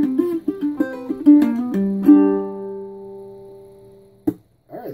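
A ukulele plays a quick bluegrass lick in G, a run of plucked notes that ends on a ringing chord left to sustain, then a brief muted strum.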